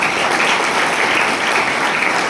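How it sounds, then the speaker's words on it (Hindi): Audience at a business opportunity seminar breaks into steady, loud applause, a dense continuous wash of clapping from start to finish. "एक बार जोरदार ताली होनी"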